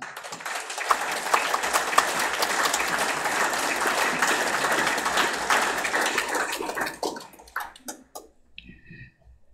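Sustained audience applause at an outdoor political campaign rally in Germany, dense clapping from a large crowd for several seconds before tapering off into scattered claps.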